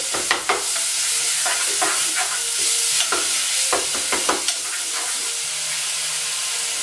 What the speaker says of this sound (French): ma viande elle est en train de cuire avec les oignons